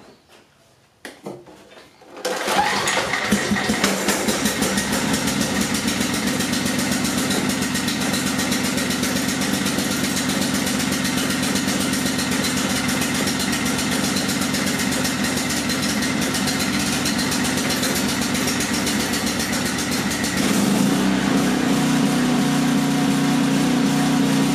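An old generator engine sputters to life after a couple of seconds, then runs loud and close at a steady, rough idle for the rest of the stretch, with a slight shift in its drone near the end. No one speaks.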